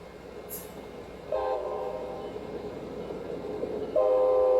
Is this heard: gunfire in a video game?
no